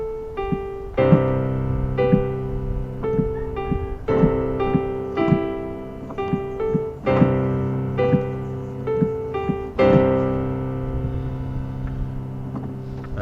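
Slow solo piano playing the hymn Come Thou Fount, part two of an easy arrangement, with steady sustained chords and single notes ringing out one after another, clear and close with no talking.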